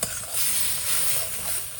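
Nigella seeds (kalo jeere) tempering in hot oil, a loud close sizzle, a dense crackling hiss that holds steady for under two seconds with a faint stirring scrape.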